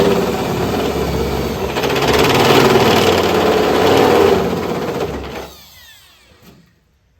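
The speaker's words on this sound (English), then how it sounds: "Now we've got our step drill bit. Punch it through to get a nice clean hole." A step drill bit punches through the metal hood of a 1968 Firebird, a loud continuous grinding whir that builds and holds for several seconds, then winds down and trails off to near silence.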